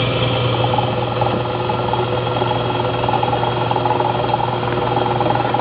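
A vacuum pump draws air out of a glass bell jar, producing a loud, steady mechanical drone with a constant hum and rattling vibration that continues without a break.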